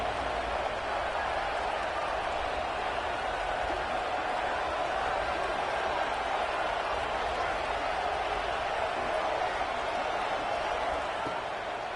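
A packed football stadium crowd roars steadily before a big third down, a broad continuous wall of cheering noise with a faint clapping texture, heard from a distance.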